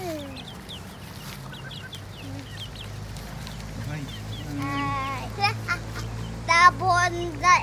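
Chickens clucking and squawking while being fed, close and growing louder and busier toward the end, with voices, including a child's, talking over them.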